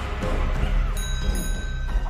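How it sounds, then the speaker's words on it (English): A bell rings in the horror video game Chicken Feet: a sustained metallic tone starts partway through and hangs steadily over a dense, rumbling game ambience, with no talking. "I just heard a bell ring."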